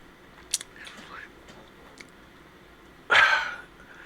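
A dog lets out one loud, close bark near the end, after a stretch of quiet room sound with a few small clicks.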